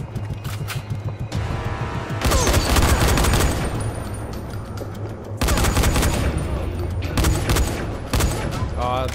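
Gunshots in the video game Dying Light ring out in loud, dense bursts. Heavy volleys sit around a low steady hum, with brief quieter gaps between them.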